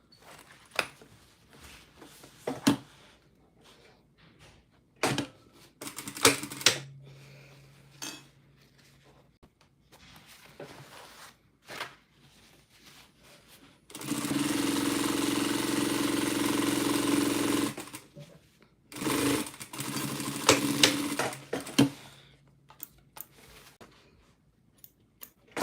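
A home sewing machine stitches fabric in a steady, continuous mechanical whir lasting a few seconds, loud and close, with scattered clicks and handling noises before and after.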